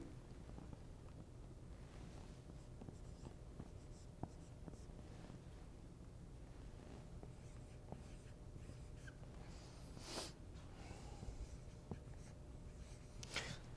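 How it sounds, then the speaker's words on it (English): Numbers being written by hand, likely pen on paper, as a faint, steady scratching under a constant low hum and background noise, with occasional small taps. "I'm going to start writing the numbers"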